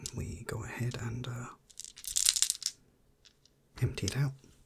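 A bag of mixed metal, wood and plastic dice is tipped out, giving a brief burst of bright clattering and rattling between stretches of soft close talk.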